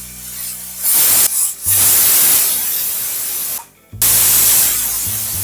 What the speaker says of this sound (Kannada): ಮೀಡಿಯಂ ಫ್ಲೇಮ್ ಒಳಗೆ 3 ರಿಂದ 4 ವಿಸಿಲ್ ಮಾಡ್ಕೊಳ್ಳೋಣ್ರಿ.